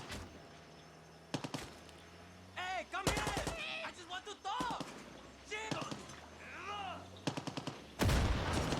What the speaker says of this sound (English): the crazy lady over here just opened fire on the road